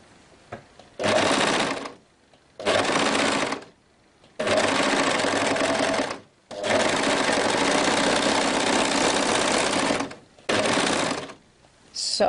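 A sewing machine stitches a bias strip seam for a homemade kimono, running in several bursts of steady, close whirring separated by short quiet pauses, with one long continuous run in the middle.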